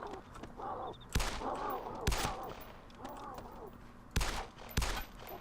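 Gunfire in the DayZ Mod video game, four or five sharp, loud shots spaced irregularly over a few seconds, with quieter game ambience and faint talk between them.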